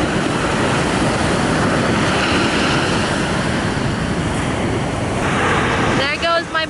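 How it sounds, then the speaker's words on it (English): Ocean surf rolls onto the beach at Viña del Mar, Chile, a loud continuous wash with wind buffeting the microphone, easing slightly near the end. "the waves are not really that big"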